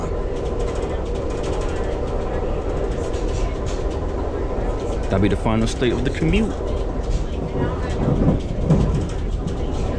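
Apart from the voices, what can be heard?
Amtrak number 59 train running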